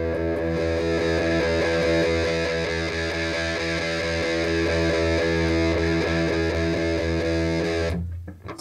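Electric guitar played through a modded Marshall JCM 800 amp, thick distorted chords and riffs ringing steadily for several seconds before cutting off, loud and close with no voices.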